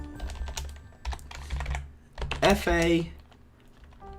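Keys clatter on a computer keyboard as code is typed, quick irregular bursts of close clicks under a man's intermittent speech.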